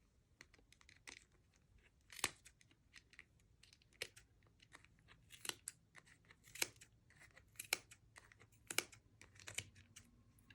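Scissors snip through yarn wound on a pom-pom maker, sounding as a series of faint, sharp, irregular clips close by against a quiet background.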